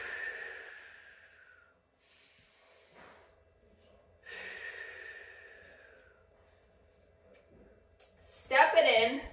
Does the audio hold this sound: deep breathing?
yes